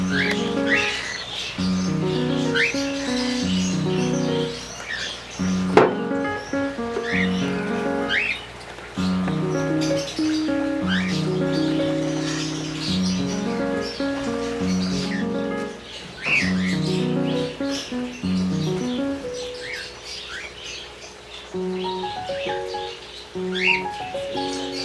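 Pet cockatiels in a breeding setup chirp and squawk continuously, with whistled calls and shrill squawks layered over a busy chorus of other birds, loud and close throughout.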